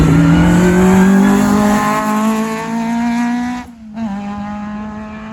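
A Vauxhall Corsa kit car on a rally stage at the East Riding Stages Rally, its engine screaming loud and near as it holds revs through a gear, with a brief gap and tire noise.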